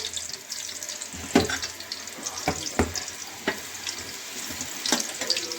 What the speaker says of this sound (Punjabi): ਅਸੀਂ ਲਸਣ ਪਾਤਾ ਇਹਨੂੰ ਅਸੀਂ ਚੰਗੀ ਤਰ੍ਹਾਂ ਲਾਲ ਕਰ ਲਾਂਗੇ